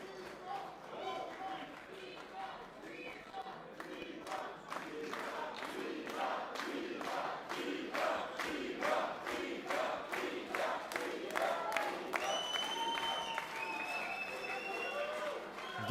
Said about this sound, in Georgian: გესმით ალბათ გულშემატკივრობა დარბაზის მხრიდან.